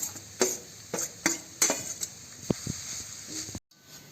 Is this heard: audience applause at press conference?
no